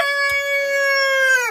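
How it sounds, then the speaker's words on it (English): A rooster crows once nearby, a loud, drawn-out cock-a-doodle-doo with a clear harmonic tone that drops off sharply at the end, alone without talk. "And I think there's a rooster."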